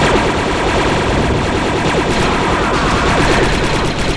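Dense, relentless gunfire and blaster-like bursts fill a battle in Star Wars Republic Commando, with sonic turrets hammering away. The barrage is loud and continuous, with rapid overlapping shots and no clear pauses.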